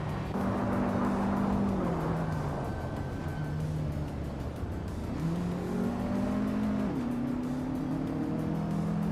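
Race cars overtaking one another in a nonstop racing video game: steady engine drone with rising and falling pitch as the cars accelerate and shift, one passing close and sweeping upward, no voices.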